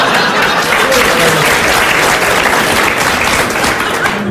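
Studio audience on a Hungarian TV comedy show breaks into sustained, dense applause, a steady loud wash of clapping hands with no break throughout.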